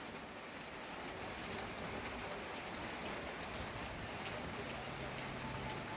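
Light rain patters steadily on a house courtyard, a soft even hiss of drops close by, with faint bird calls in the background and no talking.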